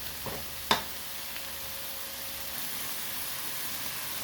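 Pork belly stir-fried with lemongrass in a pan gives a steady, soft hiss of frying, with one sharp clatter of a utensil early on and no voices.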